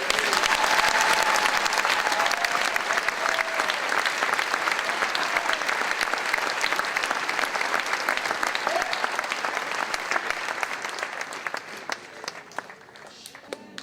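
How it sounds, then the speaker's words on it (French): Sustained applause from a large audience at a French-language religious conference, steady and loud throughout before gradually thinning toward the end. "On acclame le Seigneur."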